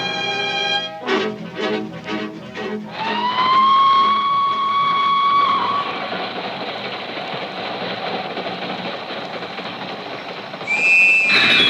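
Steam train from a radio drama set on a night train: rhythmic chuffing, a long rising whistle, then a steady rolling rumble of wheels on rails, loud and close, with another whistle blast at the end.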